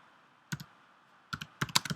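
Typing on a computer keyboard in short bursts of quick, light key clicks separated by quiet gaps, close and fairly soft.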